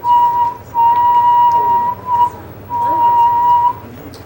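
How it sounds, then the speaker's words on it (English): A person whistles clear sustained tones in a physics lesson on sound waves, two long notes with a short one between, fairly loud and alone over a faint low hum. "You can make whistles."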